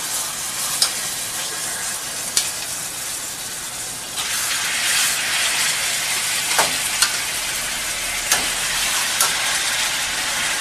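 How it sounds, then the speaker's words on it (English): Pork chops sizzle in a hot pan, a loud, even hiss of frying fat that swells partway through and carries occasional sharp pops and crackles, with no voices heard. "You hear them sizzling there."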